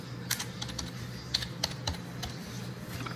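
Quick keystrokes on a computer keyboard while entering names into a spreadsheet table, a scattered burst of light, close clicks with short pauses between them over a faint room hum.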